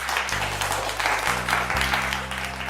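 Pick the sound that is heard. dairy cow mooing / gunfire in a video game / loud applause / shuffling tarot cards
loud applause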